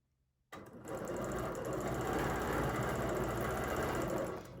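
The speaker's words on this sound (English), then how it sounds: "So I'm going to stitch halfway around here, and I'm going to stop when I reach the line that I've got marked at the tip of this." A sewing machine starts up after a short quiet moment and runs steadily, stitching a quilting design guided by an oval ruler, its rapid mechanical needle chatter close and constant until it eases off at the end.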